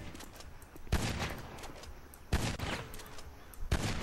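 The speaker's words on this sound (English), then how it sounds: "I'm gonna start shooting right to this wall." Gunfire in GTA Online aimed through a wall: three sharp, loud bursts spaced about 1.4 seconds apart, each followed by a short rumbling decay over steady game background noise.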